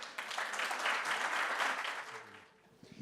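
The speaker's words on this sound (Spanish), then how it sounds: "Un aplauso, por favor." Audience applause for invited guests at a Latin American security forum, a short burst of clapping from a seated crowd that tapers off near the end, fairly quiet overall.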